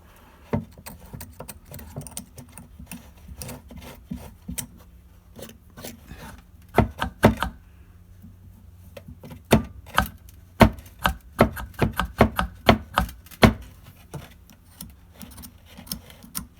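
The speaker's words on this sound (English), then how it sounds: "I'll grab my X-Acto knife and see if I can get that out of there" An X-Acto knife scrapes and picks debris out of a stained glass grinder bit, making sharp, irregular clicks and taps that come in sparse bursts, close and otherwise quiet.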